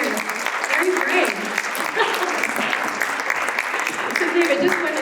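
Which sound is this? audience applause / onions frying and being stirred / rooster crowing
audience applause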